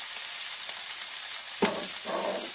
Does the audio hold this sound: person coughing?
no